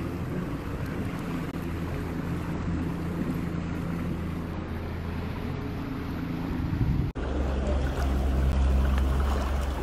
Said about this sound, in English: We're in front of the boat, cruising speed, going to the edge of the island.